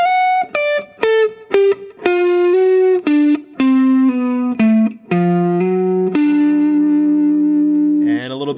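A distorted electric guitar plays a Mixolydian blues hybrid lick, with a run of quick single notes stepping down in pitch before settling on a long held note, all with a reverb and echo tail and no voices.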